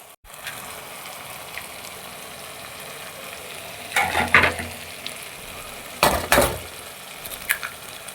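Six eggs go into sizzling fried masala for mutton brain fry. A steady frying hiss swells into two loud splashing bursts as the eggs hit the hot pan.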